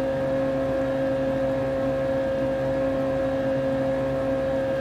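A racing car engine in a video game holding a steady high-pitched whine, constant and unbroken throughout with no talk over it.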